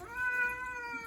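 A tomcat being bathed lets out a single drawn-out meow, a close, plaintive cry that holds steady for about a second with faint background noise.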